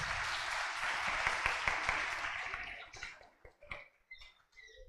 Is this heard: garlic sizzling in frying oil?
no